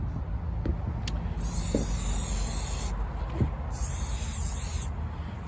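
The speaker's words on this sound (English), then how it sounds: "I'm being as generous as possible with the spray" Waterproofing spray hisses from an aerosol can onto shoes in two long, steady bursts, close and clear, with small handling clicks between them.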